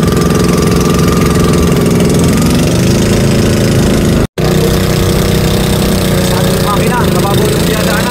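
A boat engine runs loudly and steadily close by while crossing shallow, clear water at a dam, its mid-pitched chugging drone continuous apart from a brief cut midway.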